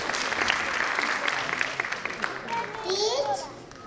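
An audience at a school annual day applauds steadily throughout, dense clapping from a crowd with children's voices mixed in.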